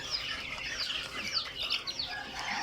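Soft, high chirps and peeps from a group of small Fayoumi chicks overlap continuously at moderate volume, close by.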